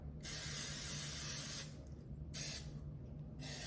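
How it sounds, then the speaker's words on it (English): Cooking spray hisses out of a can onto a baking pan in three bursts: a long spray, a short one, then another starting, with quiet pauses between. "you're gonna take some Pam and you're gonna spray your entire pan down"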